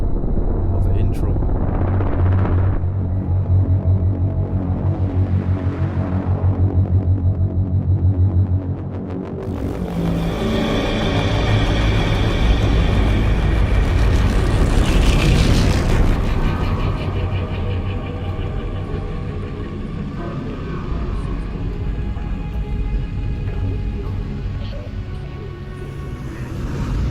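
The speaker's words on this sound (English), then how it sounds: "We start off with some ambience and some drone serving as an underscore of the intro" Low ambient drone underscoring the intro of the video game Half-Life: Alyx, a steady rumbling bed that swells and brightens with rising tonal layers partway through and carries on continuously.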